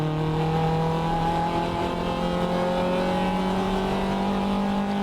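A race car engine at a wet Circuit Excel round, overtaking into turn 6, holds a loud, steady droning tone close by with no talk over it.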